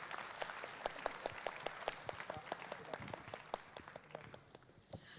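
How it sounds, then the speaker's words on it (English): Audience applause for the panelists at the close of a youth diplomacy discussion, a steady patter of scattered hand claps that holds for several seconds at moderate level before thinning out. "please make a huge round of applause to all panelists."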